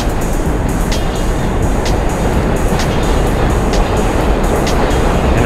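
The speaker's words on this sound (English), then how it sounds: "The train passing right now." A train passing close by, a loud continuous rumbling roar with faint rhythmic clacks, heard alone without talk.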